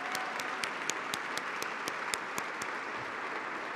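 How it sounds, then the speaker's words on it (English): An audience at a benefit event claps steadily, a dense close patter of many hands with sharper claps popping out, and no talking. "one more round of applause for Sintel."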